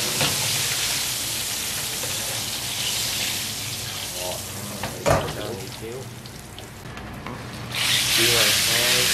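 Battered shrimp sizzle steadily in hot oil during a second crisping fry, a broad continuous hiss that swells louder near the end, with brief clatters and people talking over it.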